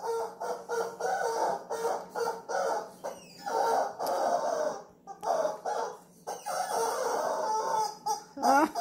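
A rainbow chicken monkey toy makes repeated clucking, chicken-like squawks in rhythmic bursts, loud and close, continuing through the whole stretch with no talk over it.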